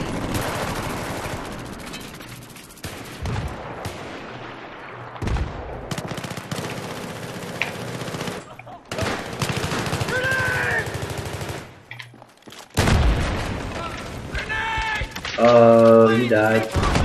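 Bursts of automatic gunfire and blasts from a Battlefield 3 multiplayer match, with a frag grenade thrown, rattle loudly in stretches broken by brief silences, while players talk over the action.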